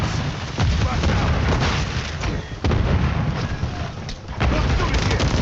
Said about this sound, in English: Throwing grenade! Throwing flash grenade!